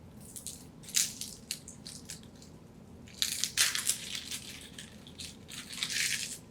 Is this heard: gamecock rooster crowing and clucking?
no